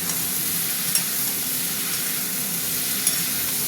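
Elephant foot yam and potato pieces fry with shrimp in an oiled pan, a steady close hiss and crackle with two small sharp clicks as the vegetables are stirred.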